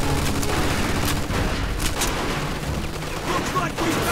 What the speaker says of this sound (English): Looks like we found a machine gun.